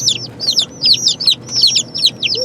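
Small chicks peep in quick, high, repeated chirps, several birds calling over one another close by with no talk.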